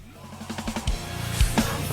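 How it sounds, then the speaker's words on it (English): A rock drum chorus builds with a snare fill leading into heavy kick and cymbal hits, loud and close, as part of a song's breakdown. "So the chorus, you build it up with the snare fill,"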